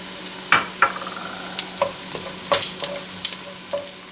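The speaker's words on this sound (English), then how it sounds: "so now we can go ahead and add the garlic." Garlic added to a pan of sauteed carrots and onions for tomato bisque, giving a series of short sizzling bursts and stirring scrapes over a low steady frying hiss, close and moderately loud with no talking.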